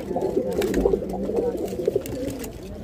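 Soft, repeated pigeon coos, including from a fantail pigeon, murmur close by, a low rolling burble continuing steadily against faint background noise.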